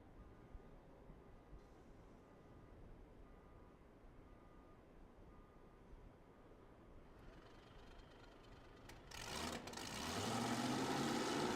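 A drag racing engine run on gas and nitro sits under a low, steady rumble for most of the stretch, then erupts near the end into a loud, sustained roar that holds to the close.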